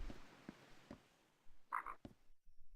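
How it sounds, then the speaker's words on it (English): Frogs croak at night in Minecraft with the Tekkit mod, a few faint, scattered croaks and chirps over a quiet nighttime background. "Just cricket time. Crickets and frogs."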